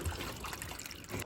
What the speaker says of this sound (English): So I pour the water through the cages just because it's way easier than opening every single cage